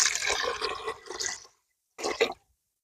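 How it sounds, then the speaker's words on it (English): Water poured over lentils in a pressure cooker, a broad splashing pour lasting about a second and a half, then a brief second pour after a short pause, close and fairly loud with no talk. "add in enough water to cover the lentils."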